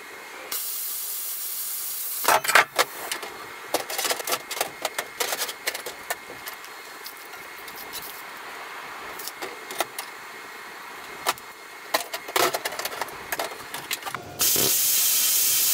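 Hardened steel skid pieces for a snow pusher being cut, giving a long steady harsh hiss broken by many sharp bursts and crackles, loud and close throughout with no talking.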